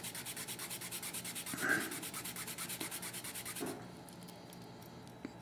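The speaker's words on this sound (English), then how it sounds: "I'm gonna take the inner washer, I'm gonna lay it on this file, and I'm gonna work it" A metal washer is rubbed back and forth across a flat file in quick, even strokes, giving a faint rhythmic scraping that stops partway through and leaves near silence.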